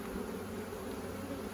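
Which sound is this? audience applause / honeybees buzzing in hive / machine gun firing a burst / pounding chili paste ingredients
honeybees buzzing in hive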